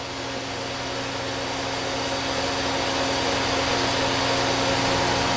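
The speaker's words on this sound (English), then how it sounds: "I milled out the front and the back for the bearings and the pocket for to bolt it on" A Grizzly G0602 project part, a metal bearing mount for the X axis, being milled by a machine with the cutter taking about an eighth of an inch; a steady, loud, continuous motor and cutting drone runs throughout with no talk.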